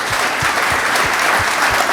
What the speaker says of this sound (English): So if I could get a round of applause for all the panelists.